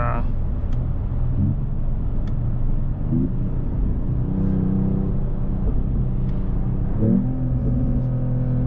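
A 2025 Mercedes-AMG E53 sedan's 3.0-liter inline six-cylinder hybrid engine drones steadily from inside the cabin in Sport Plus mode, with low rumble and occasional rising revs as gears shift.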